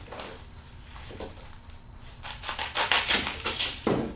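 A foam pool noodle is beveled down to form a wreath thorn, giving soft, close rubbing and scraping strokes that start quiet and sparse, then become quicker and stronger in a rhythmic run.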